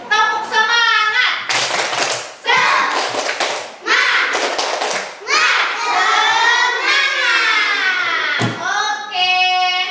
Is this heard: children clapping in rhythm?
yes